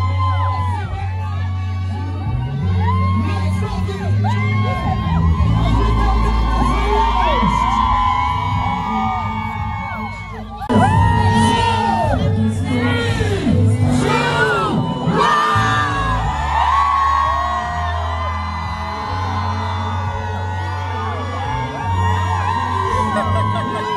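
A crowd at a Lagos gospel event whoops and cheers during a countdown with the performer, loud and lively over music with a steady bass beat. The voices swell in bursts, dip briefly near the middle, then surge again.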